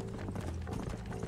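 Horse hooves clip-clop in rapid rhythmic steps in the video game Red Dead Redemption, loud and continuous over a dense background.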